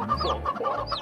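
A chicken clucks in a short burst of several quick, close clucks with a higher squawk at the end, loud and clear with no talking.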